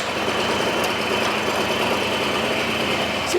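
A 1980s Honda Lead NH125 scooter engine runs at a steady idle, a close, loud, buzzing drone with slight knocking vibration throughout.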